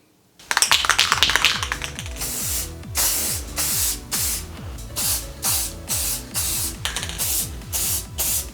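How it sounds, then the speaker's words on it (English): Clay model of a switchblade harmonica spray-painted silver: a loud initial hiss, then a long run of short rhythmic spray bursts with a mechanical rattling under them, close and without speech. "I'm just going to call it that and paint it silver now."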